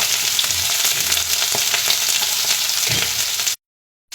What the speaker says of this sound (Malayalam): നമുക്ക് അതിലേക്ക് കുറച്ച് ഉള്ളിയും ഇഞ്ചിയും പച്ചമുളക് ഇട്ട് കൊടുക്കാം.